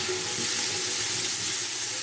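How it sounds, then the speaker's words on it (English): Vegetables sautéing with curry powder in a pan over a home stove, giving a steady, close broadband sizzle and hiss with no voices throughout. "Okay, so we're just going to saute this."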